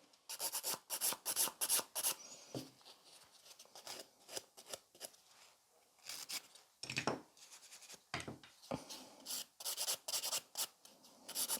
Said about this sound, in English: for the debulking of the products, I'm using the 100 grit, on the natural nail 180 grit